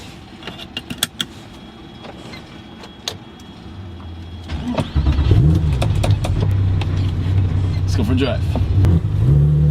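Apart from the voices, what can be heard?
Porsche 996 Carrera 911 engine while driving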